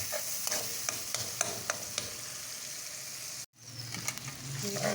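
Garlic-ginger paste frying with onion and tomato for green-chili mince, a steady close sizzle broken by repeated spoon scrapes and taps, with a brief cut-out partway through before the sizzle resumes.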